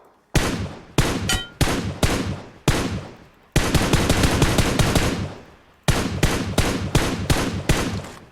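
Automatic gunfire in a video game shooter, heard up close and loud. Several short, sharp bursts are followed by a long sustained stream of rapid shots, a pause, then another extended burst.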